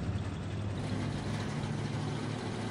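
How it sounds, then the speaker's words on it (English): Steady truck engine droning in a trucking video game, a continuous low rumble with harmonic hum running unbroken and fairly loud throughout. "I can still hear the engine."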